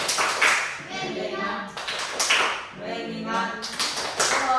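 Bursts of hand clapping in a rhythmic pattern in a classroom, mixed with voices chanting along, repeating in a few short groups.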